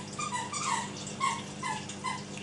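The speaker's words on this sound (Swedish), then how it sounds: "det är valpen som leker med en pipleksak" High, rubbery squeaks come in quick irregular bursts, close and fairly quiet, as a puppy chews and squeezes a small squeaky toy.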